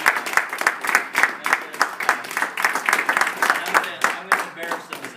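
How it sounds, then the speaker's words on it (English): A small audience at a company awards event claps for about five seconds, sparse, distinct hand claps in a loose rhythm, with voices mixed in. "Let's give them a huge round of applause."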